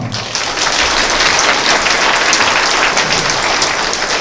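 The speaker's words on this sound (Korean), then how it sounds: "여러분, 뜨거운 박수로 두사를 축복해 주시기 바랍니다" Wedding guests at a convention-hall ceremony give the couple loud, sustained applause, a thick, close crackle of many hands clapping without pause and no voices over it.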